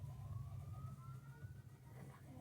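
Police car siren on a highway, a faint wailing tone rising slowly in the distance beneath the steady rumble of nearby traffic.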